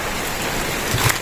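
Rain falls in a steady, dense hiss, loud and close, with a slight swell near the end and no voices.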